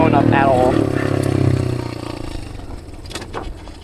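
A dirt bike engine revs in first gear out in the desert, loud and close at first, then easing off and fading, with voices talking over it.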